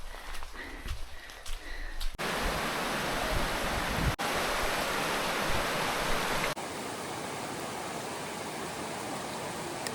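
A waterfall in Panthertown Valley, on a rainy day, gives a steady, full roar of rushing water. The constant wash is broken by a few abrupt cuts.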